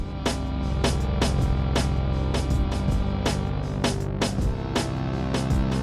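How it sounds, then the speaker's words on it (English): Sequenced synthesizer tracks, each set to a random synth voice, play a steady looping pattern of sharp plucked notes over sustained tonal layers in an even, repeating rhythm. "I just went through and assigned a kind of random synth to each one of these tracks"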